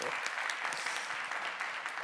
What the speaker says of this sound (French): Oui, on peut l'applaudir, vous avez raison.